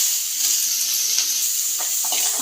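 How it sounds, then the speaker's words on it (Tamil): Steady sizzle of onions, mustard seeds, urad dal and curry leaves in coconut oil fills the clip, with a few brief crackles and stirring scrapes near the end; no voices. "பொரியலுக்கு தாளிக்க தேங்காய் எண்ணெய் ஊற்றிக்கலாம் இது கடுகு உளுத்தம் பருப்பு சேர்த்துக்கலாம் இப்போ கருவேப்பிலை சேர்த்து வெங்காயம் சேர்த்துக்கலாம்"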